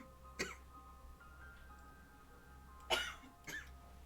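A person gives two or three short, sharp coughs at separate moments, fairly close, with quiet room tone and a faint background hum between them and no talking.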